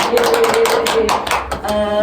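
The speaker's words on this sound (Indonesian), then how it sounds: "Tepuk tangan." A small group in a group counseling session claps hands in a quick, uneven burst of close, loud claps, followed by a voice beginning to speak.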